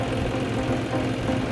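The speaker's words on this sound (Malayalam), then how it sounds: "John dear 5045 two wheel drive ട്രാക്ടറാണ്." A John Deere 5045 D two-wheel-drive tractor, a 2018-19 model, runs with a steady, close, mid-pitched diesel engine drone and a faint knocking rhythm, unbroken throughout.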